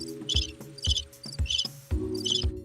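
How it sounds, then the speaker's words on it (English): Cricket chirping sound effect: evenly spaced, repeated bursts of high, shrill chirps over a low hum, clear and close, with no talking. "I could always play the crickets."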